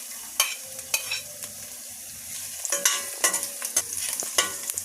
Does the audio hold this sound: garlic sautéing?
yes